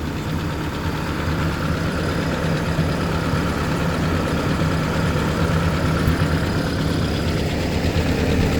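A Ford tractor engine idles steadily nearby, a continuous low rumbling chug with no change in pace and no voices.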